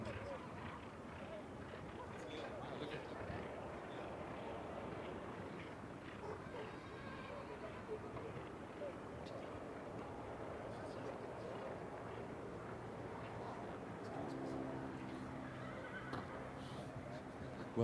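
Horse neighing and hooves clip-clopping at a polo tournament in Kenya, a steady outdoor wash of hoofbeats and snorts with a brief whinny, mixed under continuous crowd chatter and a voice talking.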